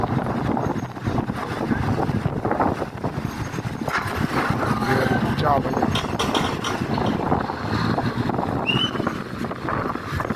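An orange-flag Chao Phraya express boat idles and churns at Tha Rachini pier on the Chao Phraya River in Bangkok, steady engine and water rumble with wind buffeting the microphone while someone talks over it.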